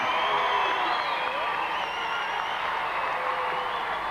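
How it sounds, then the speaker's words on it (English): A crowd at a 1986 BMX freestyle competition final applauds and cheers the riders, a steady dense roar of clapping with whoops and shouts mixed in throughout. "let's have a big round of applause for all the riders!"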